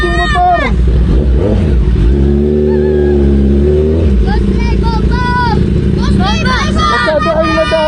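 Kawasaki ZX10R superbike engine revved repeatedly in short throttle blips, a rising, sustained rev in the middle then dropping off, loud and close, with several people chattering around it.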